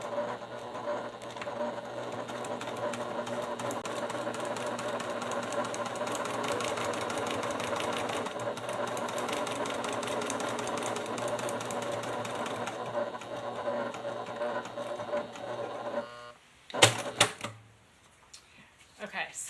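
Sewing machine stitching through memory foam with the presser foot tension set low, a close, steady mechanical whir running for about sixteen seconds before stopping, followed by a few handling clicks and quiet.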